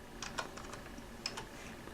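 A handful of quiet, separate keystrokes on a computer keyboard while a Raspberry Pi is being set up at a Linux command prompt, close and faint against a low room hum.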